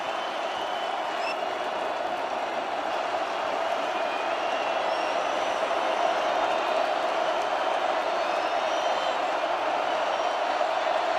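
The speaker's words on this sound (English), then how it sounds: "Now the SC faithful making some noise" USC football fans roar steadily throughout a packed college stadium during a game against LSU, a dense, sustained crowd din at full volume with no break.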